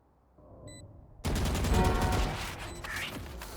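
Gunfire in a competitive shooter video game starts with a quiet lead-in, then a sudden loud burst of rapid shots breaks out about a second in. The firing stays sustained before tapering slightly toward the end.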